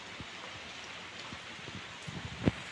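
Steady rain falls in an Odia village, a soft, even hiss with a few scattered drips and a louder tap or knock near the end; no one speaks.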